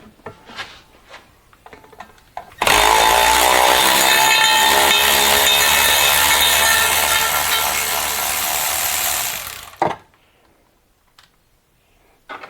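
Power tool undoing drive shaft bolts on a Mercedes Sprinter van during a transmission replacement, a loud continuous whirring ratchet burst lasting about seven seconds, framed by quieter clicks and handling noises before and after.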